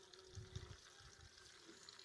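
Faint, steady gushing of water pouring into a container to dilute herbicide, a soft continuous splashing with no voices.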